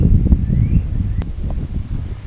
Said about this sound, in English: It's windy today, but it's really not that bad in the air.